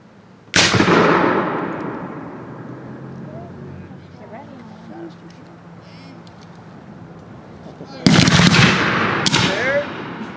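A reenactment cannon at Old Mill Village fires with a sharp, loud boom that rolls away into a long fading echo, followed several seconds later by a second burst of gunfire, with people talking around it.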